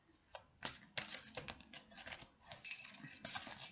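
Oversized cards being shuffled by hand, heard as quick dry riffling and flicking bursts in uneven clusters, close and fairly soft, with no talking.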